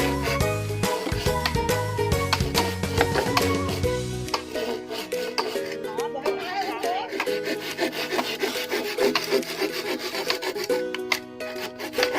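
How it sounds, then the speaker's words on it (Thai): A hand saw cuts through bamboo with steady back-and-forth rasping strokes, close and loud, the rhythm continuing throughout. "ปลาจะเลื่อยไม่ไผ่แล้ว"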